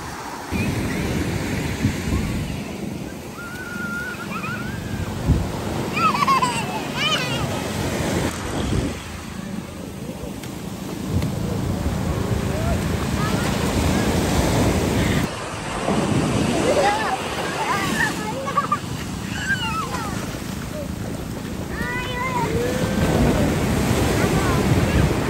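Ocean waves wash onto a beach in a continuous surf roar, with wind noise and some faint background sounds mixed in.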